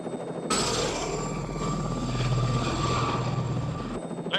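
Blue Thunder helicopter thrums overhead with a loud, steady rotor chop and a high turbine whine, holding close and strong for several seconds before cutting off abruptly.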